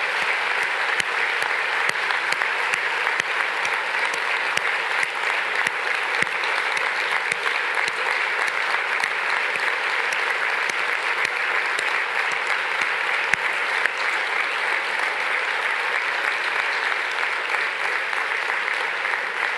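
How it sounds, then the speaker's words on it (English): A large audience applauds a team at a global climate summit, a dense, steady wash of clapping that holds loud and even for the whole stretch with no voices over it. "please join me in a big round of applause for the team that has worked so hard to make such a fantastic program for you"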